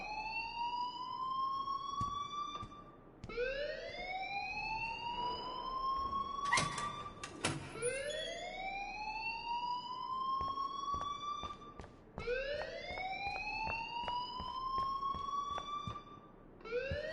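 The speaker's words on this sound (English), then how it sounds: "please turn off that alarm since that's your job" An electronic alarm in the video game Life is Strange wails in repeated rising siren sweeps, each lasting a few seconds, steady and moderately loud with a brief clatter in the middle.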